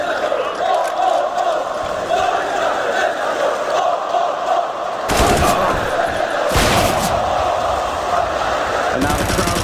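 A CS:GO Major esports arena crowd roars and cheers over game gunfire, the noise swelling into loud bursts in the second half while a caster talks throughout.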